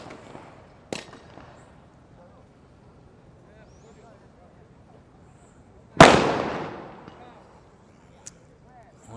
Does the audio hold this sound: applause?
no